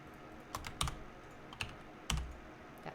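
Keyboard shortcuts tapped on a computer keyboard during live digital character texturing: a handful of sharp, irregular key clicks, some doubled, close and clear over a quiet room hiss, with no talking.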